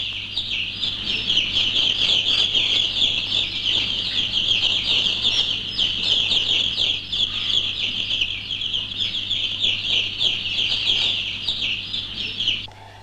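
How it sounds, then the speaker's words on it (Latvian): Dense chorus of broiler chicks peeping and cheeping as they are placed in a poultry house, continuous and close, with a steady low ventilation hum beneath. "Kamēr notiek cāļu ievietošana"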